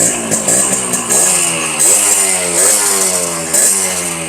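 A two-stroke motorcycle engine running close and loud, with a rough buzzing idle that rises in several quick revs and drops back, alone without talk.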